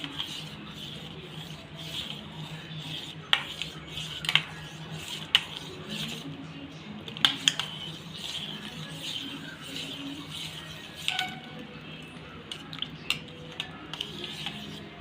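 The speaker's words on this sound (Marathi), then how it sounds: "याला तर चमच्याने एकदम व्यवस्थित असं हलवून घ्यायचं आहे" A spoon stirs soaked tamarind and jaggery in a bowl, making faint scraping rubs and scattered light clinks at an uneven pace, close and quiet, with no talking.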